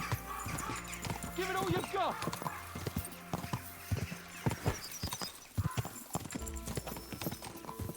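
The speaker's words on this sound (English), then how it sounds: "Let's really spur these horses on, eh?" Horses gallop in a race in the video game Kingdom Come: Deliverance II, with rapid, steady hoofbeats close by, a brief whinny, and someone shouting over them.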